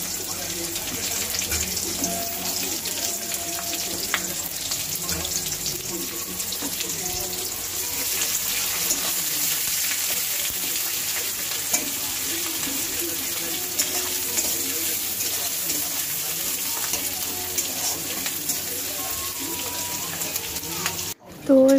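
Onions fry over low gas in a pan, giving a steady close sizzle with scraping stirs throughout and a brief clatter at the very end.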